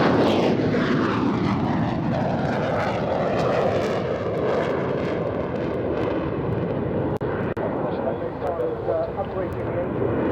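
A PR9 reconnaissance aircraft flies at the 2006 RAF Waddington Airshow with a loud, continuous jet roar that swells and shifts across ten seconds, while a voice talks faintly underneath.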